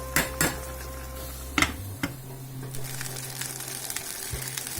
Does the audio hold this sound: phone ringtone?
no